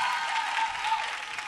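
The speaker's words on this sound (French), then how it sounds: "Il faudrait qu'on applaudisse pour lui" Brief burst of studio audience applause at a televised talent show semifinal, a dense, even patter of many hands heard alone with a faint tonal hum beneath.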